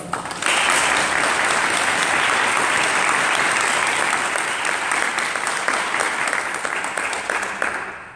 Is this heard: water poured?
no